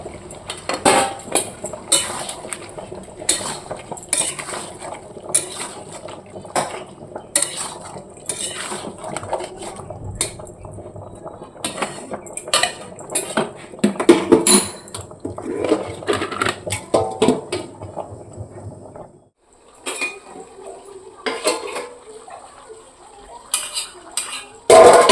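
A utensil scrapes and clinks steadily against a cooking pan as chicken and potatoes are stirred and fried. Continuous close metallic scraping and tapping, briefly quieter near the end before resuming.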